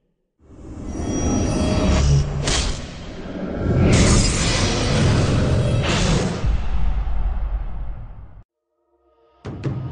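A League of Legends enemy nexus is destroyed for victory: a long, loud crashing, shattering burst with booming rumble and swelling whooshes that fades out abruptly, followed by a short new hit at the end.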